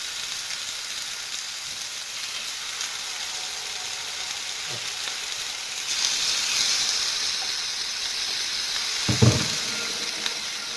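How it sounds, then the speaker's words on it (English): Steady sizzling hiss of chicken breast searing in a hot pan, continuous and close, with a few soft clinks and a brief louder spatter near the end. "Nice hot pan, get a nice sizzle going on it."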